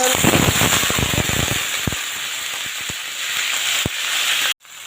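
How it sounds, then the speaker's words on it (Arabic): Half a kilo of liver dropped into a very hot frying pan on a gas stove sizzles loudly, a dense, continuous crackle with sharp pops that runs steadily, then cuts off abruptly near the end. "نزلت فيها بنص كيلو كبدة، هديلها كده صدمة"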